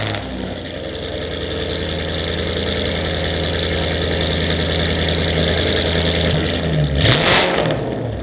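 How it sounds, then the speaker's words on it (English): A 2010 Mustang GT with a cat delete and no mufflers revs hard and loud for several seconds, its raw exhaust roaring close up, with a sharp blip near the end. "the super loud, obnoxious exhaust that was on this Mustang GT"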